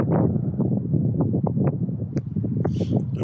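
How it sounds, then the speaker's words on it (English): Wind buffeting a microphone outdoors on a cloudy day, a steady loud low rumble with gusty fluctuations throughout, no voices. "The fucking wind's annoying."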